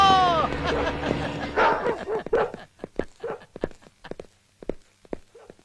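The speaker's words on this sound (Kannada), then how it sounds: "ಸಿಂಹದಂತ ನಾಯಿಗಳನ್ನ ಬೆಕ್ಕಿನ ಹಾಕಿ ಸಾಕೊಂಡಿದ್ದಾರೆ" Large dogs bark in a short burst of loud, sharp yaps and woofs, followed by scattered softer barks and yips with footsteps and a person speaking nearby.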